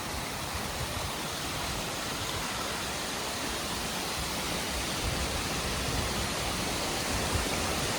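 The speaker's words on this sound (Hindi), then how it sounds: "और ये है वाटरफॉल, कुछ ऐसा" Jibhi waterfall pours in a steady, dense hiss of falling water, a loud, even broadband rush with no breaks, heard up close and alone.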